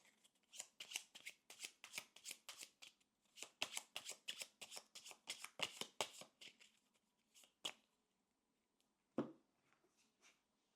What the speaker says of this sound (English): And let's shuffle again.